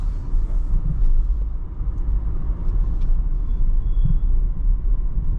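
A Leaf car drives along with a continuous low rumble of road and drivetrain noise, close and fairly loud, with no talking.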